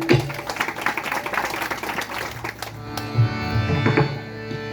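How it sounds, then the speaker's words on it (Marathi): An audience at a bhajan double-bari stage performance claps for about three seconds in a dense patter that fades, with a low musical drone underneath. "एकदा जोरदार त्याच्यासाठी टाळ्या वाजवा."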